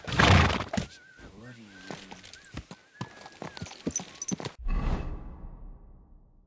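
A horse in the video game Kingdom Come Deliverance 2 whinnies and its hooves clip-clop nearby, mixed with brief whooshes and a rough burst, while in-game voices speak.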